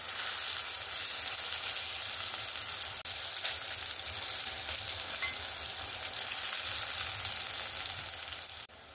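Lentil and drumstick fritters fry in hot oil with a dense, even crackling sizzle that runs without pause at close range.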